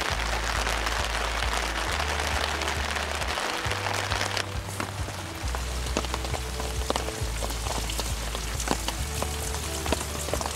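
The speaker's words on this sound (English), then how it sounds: "in came the rain later in the afternoon" Steady rain falls on a sandy whitebaiting spot on New Zealand's west coast, a close, constant patter that spatters irregularly on surfaces, with a low rumbling hum underneath and no talking.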